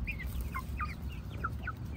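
Chickens, including Brahma hens, clucking in a backyard coop, a string of short calls at moderate distance over a steady low background rumble.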